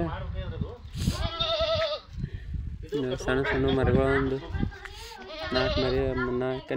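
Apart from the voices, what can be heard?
sheep bleating on a farm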